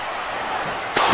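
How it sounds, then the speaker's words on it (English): Steel chair cracks against a wrestler's neck in a stop-motion wrestling bout, a single sharp metallic slam arriving near the end after a stretch of crowd noise. "Right to the neck with that steel chair."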